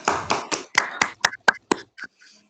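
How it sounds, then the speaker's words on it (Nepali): A small group claps in a short run of about ten distinct hand claps, close and crisp, starting fairly quick, then spacing out and fading to a few soft final claps. "ल ताली बजाएर पास गरिदिनु"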